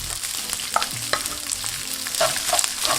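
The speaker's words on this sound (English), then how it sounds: "Let's stir fry this for 2 minutes." Boiled rice stir-fried with a touch of spice oil in a pan over medium heat: a steady close sizzle with repeated scraping and clicking of the spatula as the rice is tossed.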